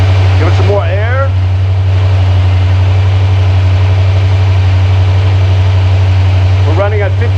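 Hydrogen-fuelled V8 engine on a test stand running steadily at about 1500 RPM, a loud, constant low drone with a steady hum throughout, briefly overlaid by voices at the start and end.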